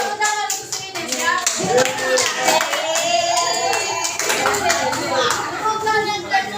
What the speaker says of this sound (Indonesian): Tepuk tangan untuk si Ines ya.